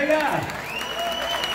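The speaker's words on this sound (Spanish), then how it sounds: "Gracias por el aplauso" Audience applause at a live concert in a small venue, a brief burst of clapping heard alongside voices and a sustained musical tone rising in the background.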